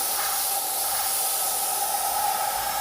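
A spray gun hisses steadily while custom-painting a small lowrider-style mini hood masked with tape for a soft overspray edge, one continuous close airy spray with no pauses.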